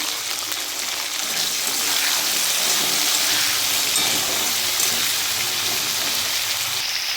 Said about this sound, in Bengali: নুন দিয়ে দিলাম, হালকা করে ভাজবো, লাল করে কিন্তু একদম ভাজবো না।